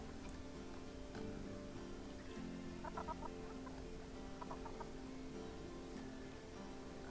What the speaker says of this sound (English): I think I only have 2 chickens in here now.